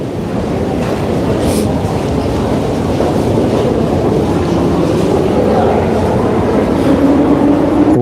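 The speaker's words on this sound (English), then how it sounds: "When the train comes, I'm going to finish the stream because it's going to be very noisy." Loud, continuous low rumble and roar of a passing train, building slightly toward the end, heard alone with no talking.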